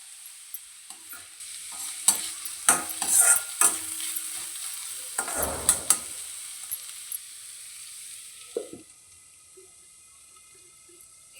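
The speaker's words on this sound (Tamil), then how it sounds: "இப்போ நம்ம நடுவில் ஒரு முறை கிளறி விட்டுக்கலாம்." Beetroot poriyal stirred in a pan over the heat, with a run of scraping spoon strokes and light sizzling in the middle, then a quieter simmer toward the end.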